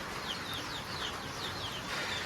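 Village chickens sheltering from rain cluck repeatedly in short rising calls over a constant hiss of steady rainfall, fairly close and moderately loud.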